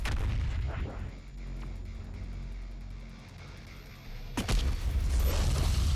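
A BFG 10,000 fires in Doom Eternal: a loud, sustained rumbling low boom with hum and an abrupt sharp blast near the end, no talking.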